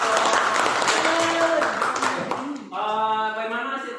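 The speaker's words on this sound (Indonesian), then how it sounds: "Kita kasih aplaus dulu di kelompok" A classroom group applauds, a dense burst of clapping from many hands over the first half, then fading as a voice begins speaking over the tail end.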